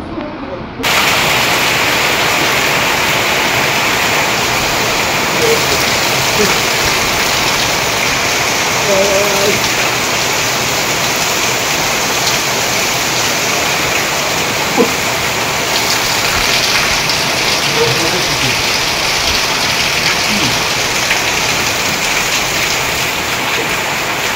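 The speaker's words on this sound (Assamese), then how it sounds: "সৰু ল'ৰাৰ দৰে বৰষুণত তিতিছো" Heavy rain pours steadily and loudly on an outdoor trip home from Kaziranga Panbari, a dense unbroken hiss with no letup and no talk heard.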